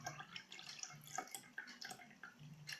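Liquid is drained from a cooking pot into a cup, giving faint trickling, splashing and dripping sounds that come in uneven bursts at close range.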